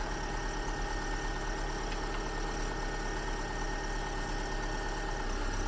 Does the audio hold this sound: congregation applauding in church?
no